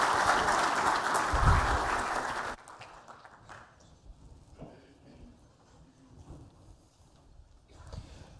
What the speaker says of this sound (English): So please do give him a warm round of applause.